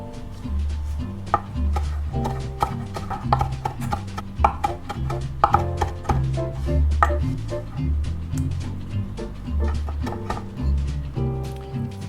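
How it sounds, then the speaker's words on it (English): A knife chops fresh mint on a cutting board in quick, repeated taps, loud and close, with short bursts of strokes separated by brief pauses. "grab some mint, some fresh mint. We're gonna chop up about a 1/4 cup."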